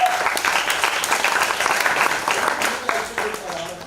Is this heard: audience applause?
yes